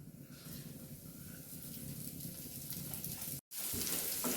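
Dal goes into oil with frying panch phoron, a close, quiet continuous sizzle with a brief dropout near the end before the frying hiss resumes.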